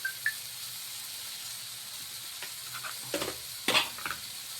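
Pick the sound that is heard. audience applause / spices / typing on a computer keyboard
spices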